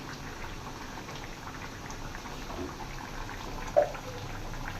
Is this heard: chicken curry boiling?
yes